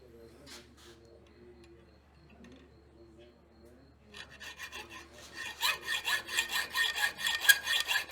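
Metal bar being cut during a blacksmithing demonstration: after a few quiet seconds with faint voices, a steady rasping sawing stroke builds up and grows louder, repeating in an even back-and-forth rhythm close by.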